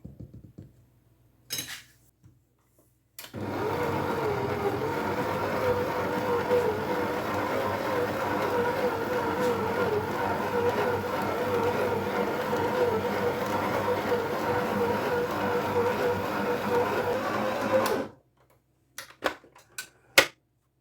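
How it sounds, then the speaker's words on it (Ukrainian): A food processor kneads sweet Easter bread dough with zest and dried fruit. It runs as a steady, loud motor hum with a rattling churn for about fifteen seconds, with brief clicks and clatter before and after. "а я буду вимішувати в комбайні"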